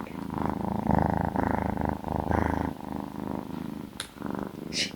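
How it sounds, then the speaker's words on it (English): Close, continuous purring from a cat, a low vibrating rumble that swells and eases with each breath, broken by a few small rustling sounds. "You can probably hear her purring."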